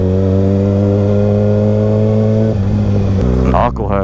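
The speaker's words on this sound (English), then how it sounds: "God, can you hear the bike engine?" A motorcycle engine runs loud and close in a steady, droning rumble, its pitch shifting a few times as it revs while riding on a road.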